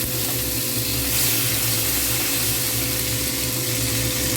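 Chopped tomato dropped into hot oil with spices for a sorputi fish curry, a loud, steady, close sizzle and hiss running without pause and with no voices.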